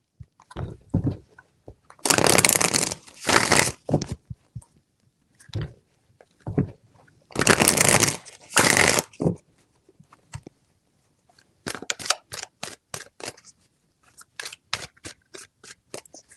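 Tarot cards are shuffled in several quick riffling bursts, crisp and close, separated by pauses and lighter taps and flicks of the deck, with no talking.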